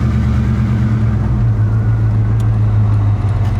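A 1961 Pontiac Catalina with a 389 tri-power V8 driving along, a loud, steady low engine drone with a deep rumble that holds constant throughout, heard from inside the car with no voices.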